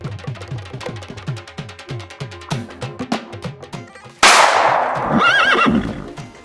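Several horses gallop hard during a fast riding scene for a Thai TV drama, with brisk, rhythmic hoofbeats up close that give way to a loud, shrill neigh and continued commotion.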